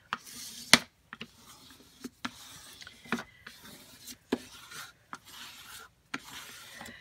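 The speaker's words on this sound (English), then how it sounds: "I'm gonna use my bone folder just to kind of rub this out" A bone folder rubbed firmly over paper while smoothing a fold in an envelope mini album, soft scraping strokes in irregular bursts, close and quiet.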